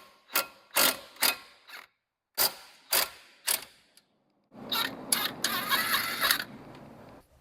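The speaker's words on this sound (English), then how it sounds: "I just need to remove these 2 bolts with a 15mm socket." A 15mm socket on a ratchet loosens the brake caliper bolts on a Ford Focus, giving a run of quick, close clicking bursts followed by a longer, steady spell of rapid ratcheting.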